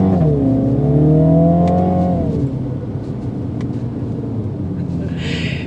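A 2023 Mini JCW Countryman All4 accelerating in sport mode from inside the cabin, a loud engine note climbing in pitch then settling into a steady rumble, with a brief hiss near the end.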